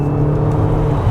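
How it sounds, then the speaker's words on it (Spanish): A Mercedes GLA 200d diesel engine pulls hard at full throttle, a steady, loud low drone with a continuous whir holding level throughout, heard from inside the car with no speech. "Voy con el pie totalmente encima del acelerador"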